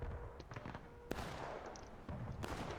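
Musket fire crackles in a War of Rights public match on the Hagerstown Turnpike map, with several sharp reports and sustained distant battle noise that is faint overall.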